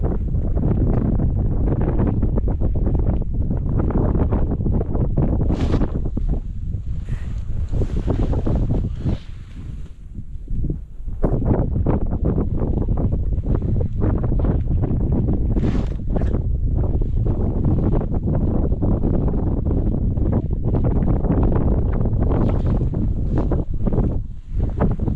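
Strong wind roars across a frozen lake in a blizzard, buffeting the microphone with loud, continuous gusts that ease briefly near the middle before surging again.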